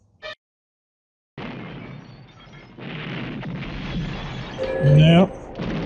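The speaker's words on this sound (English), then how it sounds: "That's going to make a boom. All the ammunition going off." Movie explosions as ammunition goes off in First Blood: a sharp pop, then silence, then a building rumble of blasts and debris that peaks loudest near the end.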